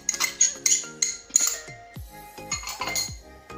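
Spoon or whisk clinking against a bowl while stirring cake batter made with oil, vanilla, a pinch of salt, sugar and yogurt, giving irregular close metallic and glassy taps and scrapes with no talk.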